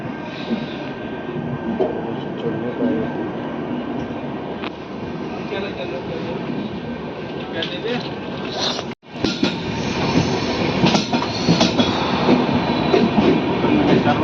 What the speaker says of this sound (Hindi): हमारी ट्रेन जो है बिल्कुल ऑन टाइम यहाँ से डिपार्ट कर जाती है आलमनगर से।